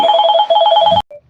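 A telephone rings loudly and close with a rapid electronic trill lasting about a second, then cuts off, followed by a brief faint blip.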